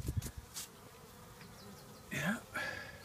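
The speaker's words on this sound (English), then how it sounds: "There's the bees." Bees buzz faintly nearby, a few short droning passes rising and falling against quiet outdoor background.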